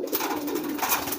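A kolong pigeon coos close by, a soft continuous throaty burble with gentle pulsing, alone without talk.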